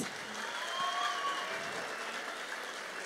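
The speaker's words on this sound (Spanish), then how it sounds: "Vamos por los aplausos de Luis." Audience applause for a contestant at a Campus Party tech event, a steady, moderate wash of clapping from a crowd with faint whistles and calls mixed in, holding evenly for a few seconds.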